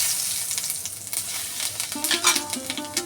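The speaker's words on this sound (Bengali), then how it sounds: "সর্ষের তেল গরম হয়ে গেছে এখন আমি গোটা জিরে ফোড়ন দিয়ে দিলাম" Whole cumin seeds sizzle in hot mustard oil in a pan, a steady soft hiss and crackle heard close up and alone, with light stirring clinks toward the end.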